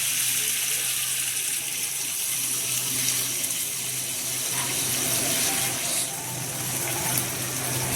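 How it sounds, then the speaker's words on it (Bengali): Water pours steadily into a pan of pointed gourd and shrimp curry, a continuous close gushing splash that runs the whole time with no talk over it. "এবার আমি জল দিয়ে দিব।"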